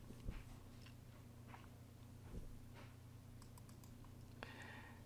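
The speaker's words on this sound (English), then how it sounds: "So we're going to type in the server name," Typing on a computer keyboard while entering a server name, with a steady run of soft key clicks and a few louder taps, close and quiet over a low background hum, with no talk.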